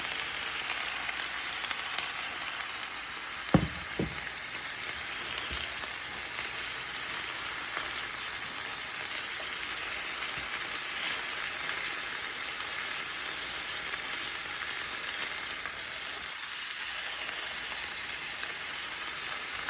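Food browning in a pan filled over low heat for a steakhouse-style dish, giving a steady close frying sizzle throughout with one brief clatter near the start.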